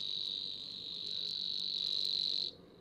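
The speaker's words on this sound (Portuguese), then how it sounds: "quem ouvir este som e não souber que é uma ave, pode inclusivamente pensar que se trata de um inseto" A bird, Prunella, giving a high, thin, continuous insect-like song, steady and fairly close for over two seconds before cutting off, with faint background hiss and no talking.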